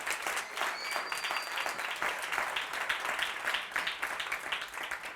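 Sustained audience applause at an awards ceremony, a dense steady wash of many hands clapping throughout, fairly loud and unbroken.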